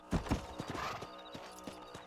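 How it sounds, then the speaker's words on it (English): Horse hooves clip-clopping on a hard surface in the video game Red Dead Redemption, a few heavier thuds at first, then lighter, uneven steps fading into a quiet background. "I do find it hard to get the horse to turn."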